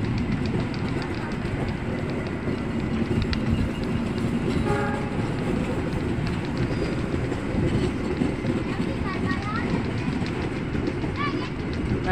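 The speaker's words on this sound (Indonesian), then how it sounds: "Nah ini ada lokomotif, ada gerbong bekas stiker G20 ternyata." A train with locomotive and carriages passing at Jatinegara station, a steady close rumble of rolling stock and clattering wheels with brief horn tones, while a voice speaks over it.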